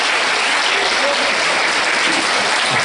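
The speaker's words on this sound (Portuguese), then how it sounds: "Eu pediria uma salva de palmas novamente para o senhor." Audience applause fills a church talk on Holy Week spirituality, a steady, dense wash of clapping from a crowd that holds loud and even throughout, with no voices.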